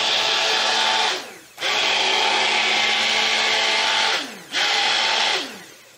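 A stick blender whirs loudly up close in three sustained bursts while mixing cold process soap batter, its motor dropping briefly between each run.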